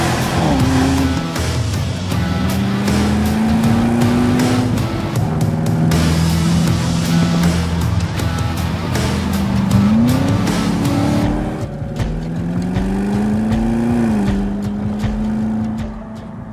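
Audi RSQ8 with an Urban body kit and Akrapovic exhaust drives past loud and close, its engine note rising and falling through gear changes in a steady, continuous roar with no talking.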